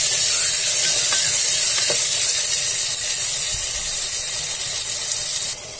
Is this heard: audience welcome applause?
no